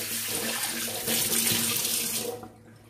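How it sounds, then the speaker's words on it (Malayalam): Tap water runs steadily into a sink while a rusty pot is scrubbed with a scrubber, a continuous close splashing stream with faint rubbing, easing off near the end. "ആദ്യം വെറും സ്ക്രബ്ബർ കൊണ്ട് മാത്രം ഇതൊന്ന് കഴുകിയെടുക്കുക."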